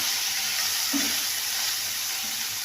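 A tomato dropped into minced meat frying in a pan for a bitter gourd (karela) dish, giving a steady, fairly loud sizzle with a soft thud of the addition partway through, no talk.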